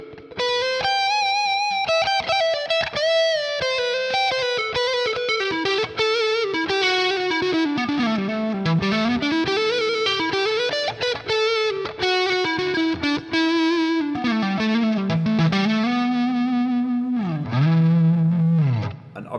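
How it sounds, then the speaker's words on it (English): An Enya Nova Go Sonic guitar is played with its built-in reverb turned up, with sustained melodic notes, bends and slides ringing out with a washy, lingering tail, loud and alone. "Now we can hear the reverb activated."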